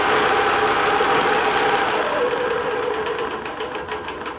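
A digital quilting machine stitches a double link quilt with many small pieces, giving a steady, close mechanical whirring hum that runs at a slow, even pace and fades slightly toward the end.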